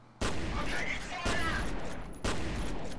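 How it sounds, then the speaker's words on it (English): Burst-fire weapon shooting in the video game F.E.A.R. Extraction Point, three loud, close bursts of rapid gunfire spaced about a second apart, each ending with a brief ringing tail. "I don't really like this weapon because it fires in bursts."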